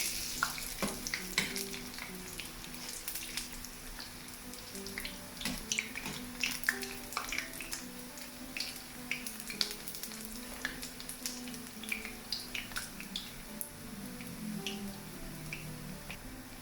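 Urad dal vadas deep-fry in hot oil with a steady bubbling sizzle and scattered pops and crackles, close and continuous without a break, and no voices present.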